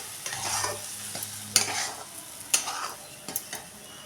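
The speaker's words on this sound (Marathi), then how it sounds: "त्या रव्यामध्ये गाठी होऊ जर येता ह्या पटकन अशा हलवून फोडून घ्यायच्या आहेत" Semolina cooking in boiled milk and water is stirred briskly with a utensil to break up lumps, giving close scraping strokes and soft bubbling with a few sharper knocks against the pot.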